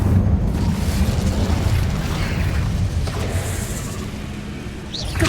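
A fire spell, Incendio, is cast in the video game Hogwarts Legacy, heard as a dense, loud burst of crackling, rumbling game effects over a heavy low backdrop that fades slightly toward the end.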